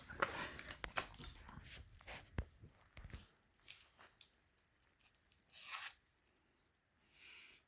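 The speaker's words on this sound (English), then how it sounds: "So now I'm going to take all the plastic off of it." Protective plastic film is peeled off a Tesla key fob shell in short crackling tears and rustles, close and quiet, with a brief louder crinkle partway through.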